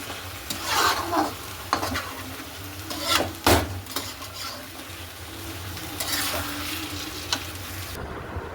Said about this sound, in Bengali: চারিদিকে চিকেন এই যে হচ্ছে কষানো এটা এখন চলবে কষানো